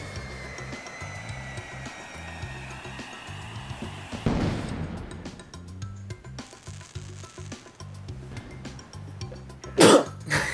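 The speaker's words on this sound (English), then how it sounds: "Just randomly sneezed." A single sharp sneeze bursts out near the end, loud and close, after a stretch of quieter background sound in an unboxing game session.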